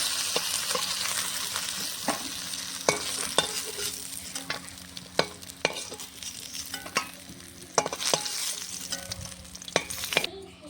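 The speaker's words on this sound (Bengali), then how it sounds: "মাছটা ভাজা হয়ে গেছে, আমি এখন নামিয়ে নেব।" Pieces of rohu fish frying in hot oil in a kitchen pan, a steady crackling sizzle under repeated sharp clinks and scrapes of a spatula stirring and turning the fish.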